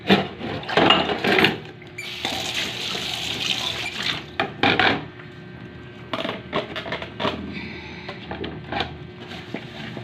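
Tap water runs into a sink while dishes are washed at home, splashing and gurgling in uneven bursts with clatter and pauses, close and fairly loud.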